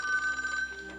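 A telephone rings with a steady electronic bell tone, one continuous burst heard on its own with no talk over it.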